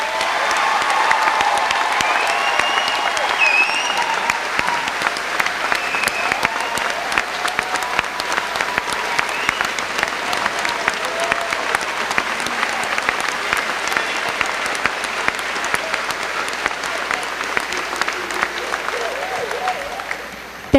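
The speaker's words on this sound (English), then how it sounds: "applause." A large audience at a high school graduation ceremony applauds with loud, dense, continuous clapping that fills the hall for about twenty seconds and fades slightly only at the very end.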